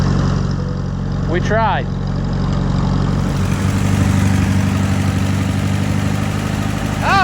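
Allis Chalmers WD tractor engine idles steadily with a low, even throb that carries through the whole stretch, with brief speech and some metallic squeaks partway in.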